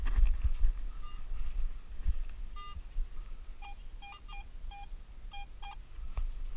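A Garrett AT Pro metal detector sweeping over forest ground gives a run of short, clear, repeated beeps in the second half, over faint rustling and footsteps outdoors.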